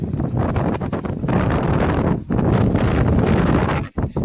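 Strong sea wind buffets the microphone in loud, continuous gusts on a fishing trip, with a couple of brief drops and a short lull near the end.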